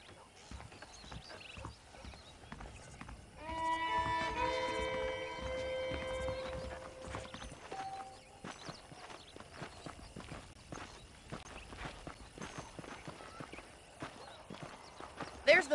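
Horse hooves clip-clop in the video game Red Dead Redemption Undead Nightmare, a steady walking rhythm heard close and fairly quiet, with game music and some voices layered over it.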